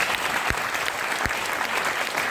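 A large audience claps steadily through a heroic-verse poetry recitation at IIT Delhi, a dense, continuous wash of applause with a few louder individual claps standing out.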